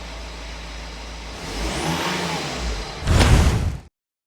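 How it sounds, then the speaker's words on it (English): A BMW car engine turns over and starts close by, building from a low rumble into a swelling rev, then a louder surge before cutting off abruptly. "Turning on the ignition, pressing the brake pedal, and yes, the car is able to start."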